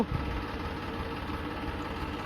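A farm tractor idles in a steady, low, even rumble with faint vibration, running alone without voices.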